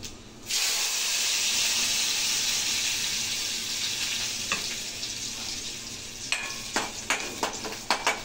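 Panch phoron and garlic sizzle in hot oil with dried red chilli for a chutney, a steady close hiss that starts abruptly, with several sharp crackles and spits near the end.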